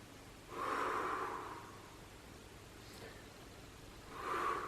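Heavy breathing from someone doing a strengthening exercise on a gym ball, two loud, rushing breaths at the start and end with a quieter exhale between, close and alone with no talk.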